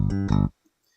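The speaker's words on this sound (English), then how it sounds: "So this is the clean DI bass." A short, clean DI electric bass note rings out with a plucked attack, sustains briefly, then cuts off into near silence.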